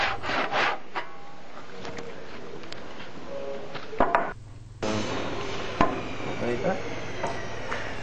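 Hand saw finishing relief cuts in hardwood timber for a joint, heard as steady rubbing, rasping strokes of wood being cut close by, with a brief quieter gap midway and a sharp knock near the end.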